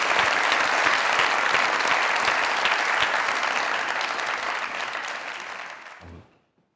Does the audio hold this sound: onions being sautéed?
no